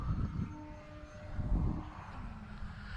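Hobby Zone Carbon Cub S2 RC airplane flying on a very windy day, its electric motor droning at a steady level with slight pitch shifts, mixed with gusty wind rumble throughout.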